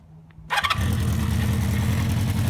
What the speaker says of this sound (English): Not too shabby for a motorcycle that hasn't been run in 30 years.